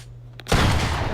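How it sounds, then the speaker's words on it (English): A single burst of Fortnite gunfire fires at targets in an edit course: a sudden loud blast after a brief quiet moment, then a dense rumbling roar that fills the rest. "you just want to shoot as many targets as you can"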